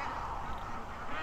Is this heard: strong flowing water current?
no